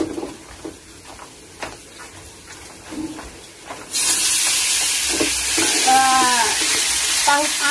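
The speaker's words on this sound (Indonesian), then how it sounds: "Lanjut oseng ya." Long beans are stir-fried in a pan, with a loud, sudden burst of hissing sizzle that then holds steady under scraping stirring strokes, after quieter clatter and a few voices in a village kitchen.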